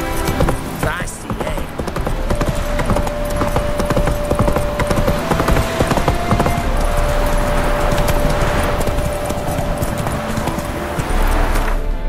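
A horse in The Witcher 3: Wild Hunt gallops with rapid, rhythmic hoof clatter throughout, steady and close, accompanied by a faint sustained tone and some brief talk.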